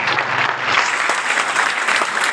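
Audience at a political rally in Uttarakhand breaks into loud, dense clapping that fills the moment steadily from start to end, with no voices standing out.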